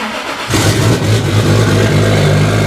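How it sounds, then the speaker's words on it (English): A Toyota JZX100 Chaser's 1JZ engine, run rough and left sitting a long while, cranks and catches after a brief quiet moment, then settles into a loud, steady close-up idle. "All right, let's see if it starts."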